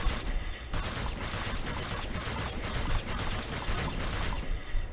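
Rapid gunfire crackles in a steady, noisy stream of shots in the video game Cyber Hunter, moderately loud, with no talking over it.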